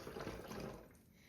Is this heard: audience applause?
no